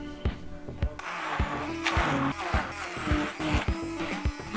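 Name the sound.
blender blending dessert ingredients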